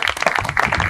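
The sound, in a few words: audience applause for presenter Bryan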